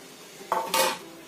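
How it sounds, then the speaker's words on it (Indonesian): A spoon stirs mashed potato mixed with sugar in a bowl, making a short soft scrape followed by a brighter clink and scuffing against the bowl, fairly close and quiet. "Kita aduk terus sampai semua gulanya ini tercampur."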